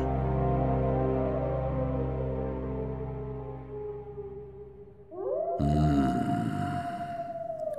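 Wolves howl in a radio drama set in the Carpathians, long drawn-out tonal cries that slowly fall and fade, then a fresh loud howl rising and holding, with several voices layered together.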